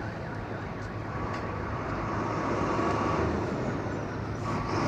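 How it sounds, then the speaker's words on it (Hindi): A bus rolls into a busy general bus stand in Pakistan, a steady engine rumble and road noise building gradually amid distant traffic hum, with no talking. "बस गोजरा टोबा के लिए एंटर हो रही है लारी अड्डे में।"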